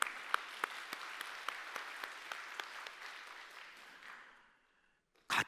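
A church congregation claps at a Sunday sermon, a fairly faint, even patter of many hands with a few sharper claps standing out, fading away after about four seconds before a brief louder burst at the end.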